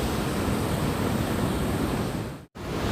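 Water rushing steadily over a dam in the Minami Alps area of Yamanashi, a loud, continuous broadband roar close by, with a brief dropout near the end before the flow noise resumes.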